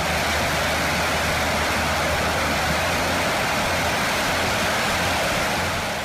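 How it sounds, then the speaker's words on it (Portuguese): A military jet engine runs on afterburner during a ground maintenance test after an engine replacement, a loud, steady, roaring broadband blast that holds unbroken throughout with no voices. "o barulho da turbina é tão alto que você pode ficar surdo se não usar protetores"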